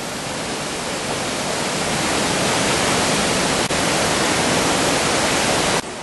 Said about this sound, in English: you can see from the viewing platform the falls at the back, and the water's running under the rock and slowly wearing it down